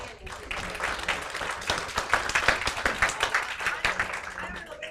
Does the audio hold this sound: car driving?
no